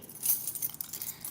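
Keys jangle briefly while someone locks up, a close, bright metallic rattle with small clinks over a couple of seconds.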